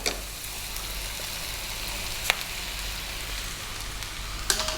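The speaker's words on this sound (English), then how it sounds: "We're going to stir fry this around for about 4 minutes. Keep it moving, we're on a high heat." Vegetables and white cabbage sizzle steadily as they are stir-fried in a hot pan over high heat for a vegan sweet and sour dish, with a couple of sharp clinks from stirring over the constant hiss.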